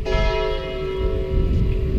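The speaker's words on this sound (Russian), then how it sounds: "сейчас будет в колокол." A church bell in Béziers, an old French city, rings out near the square facing the Hôtel de Ville, a loud, sustained ringing tone that lingers steadily.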